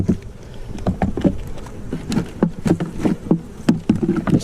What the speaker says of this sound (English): Just knock off any excess bees that are on these.